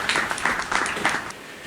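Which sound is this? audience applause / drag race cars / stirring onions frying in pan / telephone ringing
audience applause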